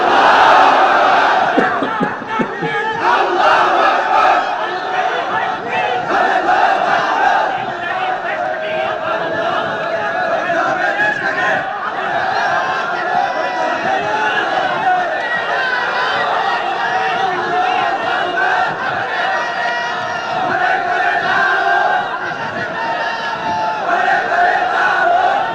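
A large crowd at a mahfil shouts the takbir in unison, a loud sustained roar of many voices that fills the space continuously with little pause.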